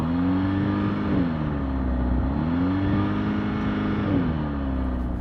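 A 2024 Alfa Romeo Tonale's exhaust heard from outside the car, steady engine drone with repeated rising revs whose pitch climbs and drops in several swells, close and continuous.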